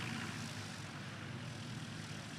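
Small STOL competition airplanes taxi back along the field after the rookie and vintage cup runs, a steady engine and propeller drone holding at moderate distance throughout.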